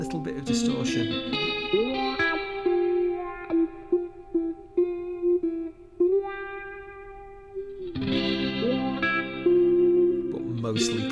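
Mostly clean electric guitar intro with slight distortion through a Fender Deluxe Reverb amp emulation, sustained chords and picked single notes ringing with reverb, a quieter sparse middle before fuller strums return.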